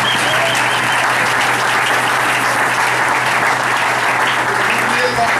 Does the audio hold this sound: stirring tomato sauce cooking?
no